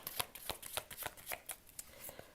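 Tarot cards riffle in quick, crisp bursts of papery snaps and flutters, close and fairly quiet, repeating in an uneven rhythm with no talk.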